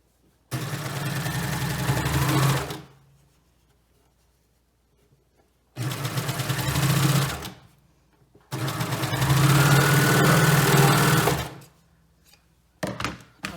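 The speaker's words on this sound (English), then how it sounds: "We're gonna sew this side." A sewing machine stitches the side seam of a hem band in three sustained runs of steady, close whirring. Each run lasts a few seconds and is separated by near-silent pauses.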